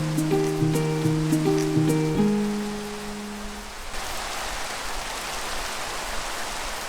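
Rain in Minecraft hisses as a steady, even wash that takes over after a few seconds of layered game music with sustained tones fading out.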